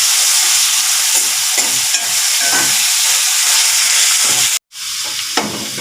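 Onions fry until brown in a pan, making a loud, continuous close sizzle with stirring scrapes. The sound cuts out for a moment near the end and then resumes.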